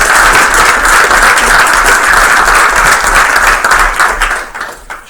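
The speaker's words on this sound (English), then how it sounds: "Let's give them another round of applause." An audience at a school board meeting applauds a student group, the Valley View Vikings, with loud, dense, sustained clapping that holds steady and tapers slightly at the end.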